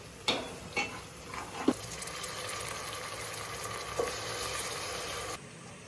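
Potatoes tipped into a hot, sizzling tempering with curry leaves for khichdi: a few sharp knocks and scrapes of a spoon over a steady close frying sizzle that stops abruptly at the end.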